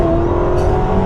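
Engine of a 2025 Ferrari SF90XX hybrid supercar at partial throttle on a countryside road, heard from inside as a steady loud droning hum with a short brighter swell midway.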